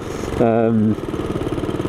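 A Honda CB250RS single-cylinder motorcycle engine thumps in a steady, uneven pulse, briefly overlaid by a louder tonal burst, close by.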